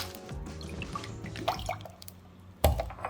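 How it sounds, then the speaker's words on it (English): Water is added by hand to stale barley rusks for Greek dakos. Soft, uneven drips and small wet splashes land close by in a quiet kitchen, with one sharper splash near the end. "So just going to put a little bit of water here."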